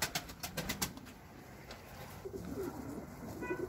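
Several pigeons coo and murmur close by in a coop, with a few quick flaps or rustles early on, in a quiet enclosed space.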